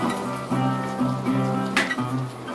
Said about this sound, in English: now that the garlic's looking a little bit browned, I'm just going to stir that in with the fork